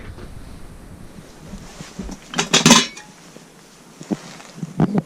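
An old, mould-spotted pot handled in an abandoned house gives a few sharp metallic clanks and scrapes in a short cluster near the middle, then a few lighter knocks, with quiet room noise between and no talk.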